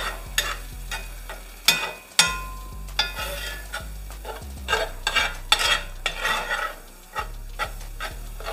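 Vegetables cook in a pot for a thick gumbo, stirred with a spoon that scrapes and clacks against the pan in irregular strokes over a soft sizzle, loud and near with no speech.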